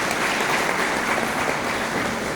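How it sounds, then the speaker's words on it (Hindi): An audience at a tribal intellectuals' gathering applauds to welcome a guest, with continuous, close, even clapping throughout. "इसके लिए ताली खड़ा हुई ताली।"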